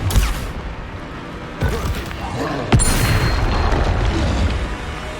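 A Confringo fire spell explodes in Hogwarts Legacy, loud booming blasts at the start and again midway, each followed by sustained crackling rumble.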